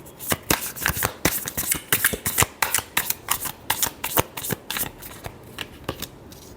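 A deck of tarot cards being shuffled by hand, with a quick run of crisp riffling snaps and flicks in an uneven rhythm, close and clear with no voices.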